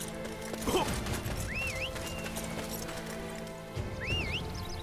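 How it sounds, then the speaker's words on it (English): In Dynasty Warriors 9, a horse gives two whinnying neighs separated by a pause, over a steady game-music and ambience bed with a few hoof thuds, moderately loud. "Wait, do I have a horse?"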